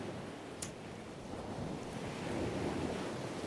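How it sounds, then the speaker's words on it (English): Ocean surf rolls in steadily at an outdoor seaside memorial gathering, a continuous wash of waves with wind buffeting the microphone, swelling slightly louder toward the end, with no voices. "The ocean sounds really beautiful"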